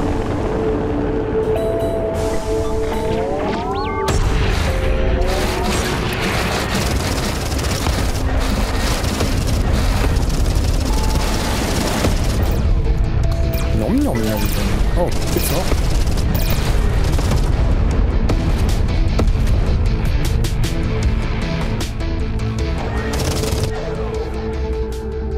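Booming explosions and bursts of weapon fire in the space shooter game Everspace 2, dense and continuous with rising laser-like tones, under someone talking throughout.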